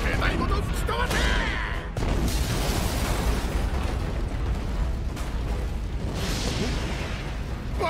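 A heavy, continuous explosion in One Piece Pirate Warriors 4 as the execution platform collapses into a blaze: a loud, roaring wall of blast noise with deep rumble that stays dense for about eight seconds, with sharper bursts near the start.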